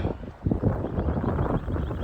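Strong wind buffets the microphone while riding an electric bicycle into a headwind, giving a loud, continuous rumbling roar that surges and gusts unevenly for the full two seconds.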